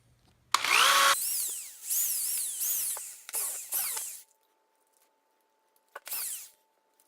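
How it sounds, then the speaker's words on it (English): Cordless drill boring pilot holes through small wood scraps, heard as several loud, close whining bursts that rise and fall in pitch as the motor spins up and slows, with a short pause before a final brief burst. "I'm going to start off by drilling 3 pilot holes just to make sure nothing gets, split in there too badly"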